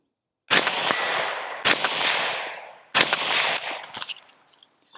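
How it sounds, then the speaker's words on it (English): Three suppressed 5.56 rifle shots fired downrange through an Engaged Industry mount, each a sharp loud crack with a long trailing decay, spaced about a second or so apart, then fading. "let's put some rounds downrange"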